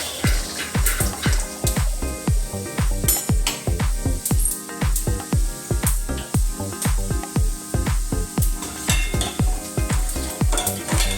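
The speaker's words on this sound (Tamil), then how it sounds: "இந்த பக்கம் வேர்க்கடலையே வறுத்துடுவோம்." Peanuts roasting in a pan while being stirred steadily, loud rhythmic scraping strokes repeated about twice a second over a constant dry sizzle, close up with no voices.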